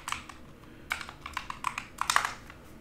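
Typing on a computer keyboard: irregular clusters of crisp, close key clicks with brief pauses between bursts, quiet room, no talking.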